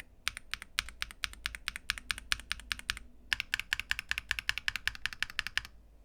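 Rapid keystrokes on a keyboard fitted with TTC Horse HE switches clatter in quick bursts, a short pause near the middle, then another run of crisp, close clicks in a quiet room.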